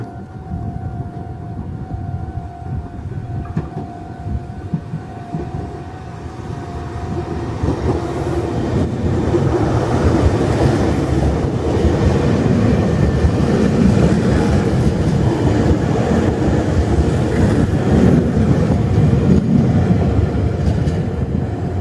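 A Meitetsu Nagoya Main Line express train rumbles past Kano Station at close range, its steady roar building after a few seconds and staying loud, with a faint tone at the start.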